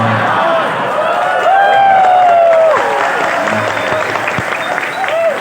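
An audience at a religious lecture, a Maulid Nabi sermon, bursts into steady, dense applause and cheering that holds for several seconds, with voices rising over the clapping.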